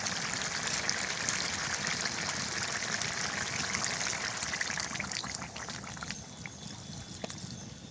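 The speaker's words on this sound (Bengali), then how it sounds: "এখন জল দিয়ে দেবো, গরম জল।" Hot water is poured into a pan of meat being fried down in a village kitchen, giving a steady close rushing, sizzling wash that holds constant and eases slightly toward the end.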